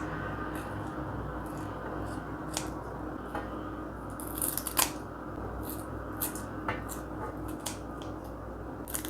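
Scissors snip open a food package, a series of sharp crisp cuts spaced irregularly over a steady low background hum, with a small cluster of louder snips near the middle.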